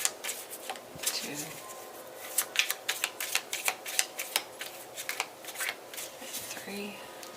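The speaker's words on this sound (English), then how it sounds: "Alright, 3 shuffles." Tarot cards are shuffled by hand in a run of quick, crisp riffling flicks, close and fairly quiet, with brief bursts of talk between the shuffles.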